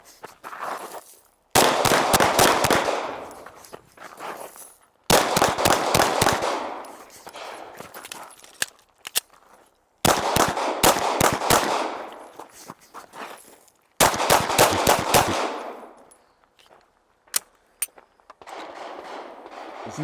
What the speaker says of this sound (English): Got a really good cadence on those shots.